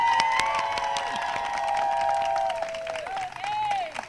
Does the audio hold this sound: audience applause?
yes